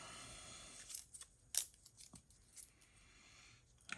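Scissors snipping paper card for a pop-up Christmas card, a few short, crisp close cuts and light rustles spread irregularly through the quiet.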